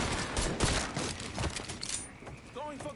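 Machine gun and shotgun fire in the Mafia 3 video game, with dense, rapid bursts of gunfire crackling loudly through the first two seconds before thinning into scattered shots, with brief tonal effects at the end.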